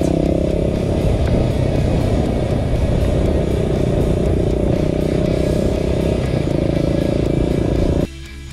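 A Beta Alp 200 enduro motorcycle runs at steady cruising speed along a wide road, its single-cylinder engine droning loud and close without a break before cutting off abruptly near the end.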